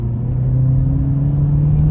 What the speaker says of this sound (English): Whenever I step on the throttle, let's hear.